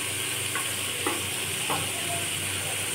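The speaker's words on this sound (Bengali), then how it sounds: "টমেটোটাকে সামান্য নেড়ে নেব।" Chopped tomatoes frying in a pan with chicken for an egg tadka dal, giving a steady close sizzle with a few soft stirring scrapes, no voices.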